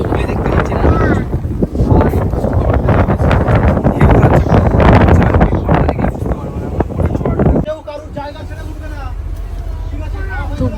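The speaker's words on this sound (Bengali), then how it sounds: "দেখো পুরো আমাদের বোট কিন্তু পুরো দুলছে" A small tourist boat sways on open water on a tiger-spotting trip, loud wind buffeting the microphone and rushing water filling most of the clip before it quiets to a softer wash, with voices talking throughout.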